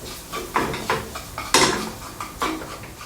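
Beaten egg yolks being stirred quickly into fried rice in a wok, with a run of sharp metallic scrapes and clanks from the utensil against the pan, irregular and close, over a faint sizzle.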